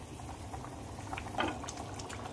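Fish curry gravy bubbling at a steady boil in a pot while chitol fish is cooked. The low, continuous simmer is soft and faint, with a few small pops rising through it and no voices.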